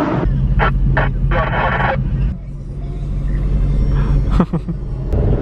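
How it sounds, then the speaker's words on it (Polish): Deep idling rumble of several sports cars, including Ferrari, Lamborghini and Maserati, stuck in a traffic jam on a village road in Podlasie, with engine revs and occasional bursts over a steady low drone and background voices. "Wszystkie auta słychać. Wszystkie auta w korku."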